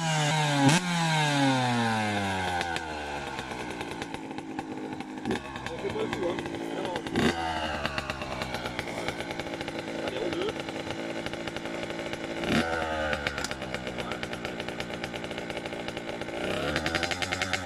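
A Yamaha YZ65 dirt bike engine revs and idles close by, with repeated rising and falling throttle blips over a steady two-stroke drone; a few sharper bursts punctuate the running, and people talk faintly under the engine noise.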